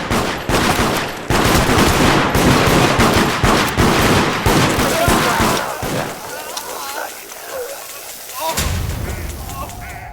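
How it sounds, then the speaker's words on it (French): Rapid bursts of gunfire from the video game Deceit, loud and dense through the first six seconds, then thinning out, with voices talking over the shooting. "Il y a des balles qui sont tirées."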